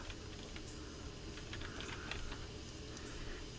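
Fast, light keystrokes clatter on a computer keyboard as a search term goes into the Windows 11 search bar, a continuous patter of soft clicks heard close up and alone over a low background hum.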